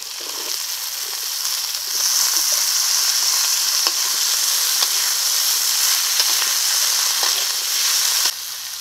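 Taro stolons with turmeric, salt and slit green chillies fry in oil with crushed garlic and cumin, giving a loud, steady close-up sizzle with occasional spoon scrapes and pops that cuts off near the end.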